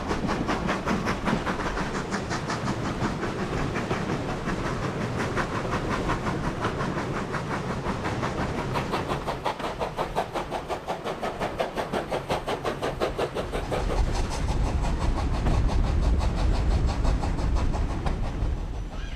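A steam train rolls along the Worth Valley Railway in West Yorkshire, its wheels clicking rhythmically over rail joints beneath a steady rushing rumble that grows heavier and deeper toward the end.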